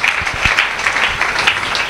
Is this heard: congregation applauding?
yes